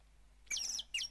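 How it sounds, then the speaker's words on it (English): Two bright, high chirps from a bird at a fountain in a point-and-click mystery video game, clear and close over a faint low hum. "the water in the fountain can attract another bird"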